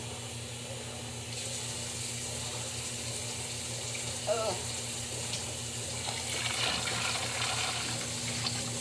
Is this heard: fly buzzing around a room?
no